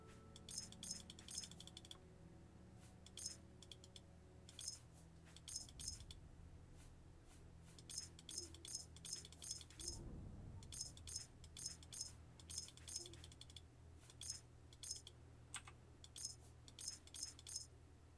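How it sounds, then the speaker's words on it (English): Keys jangle and clink in repeated short bursts as they are stored inside a barrel in the video game Oblivion, crisp metallic rattles coming in clusters with brief pauses and no talking. "Keys I'll put in the inside of this barrel."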